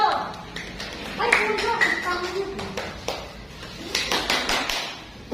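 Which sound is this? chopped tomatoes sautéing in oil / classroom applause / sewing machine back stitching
classroom applause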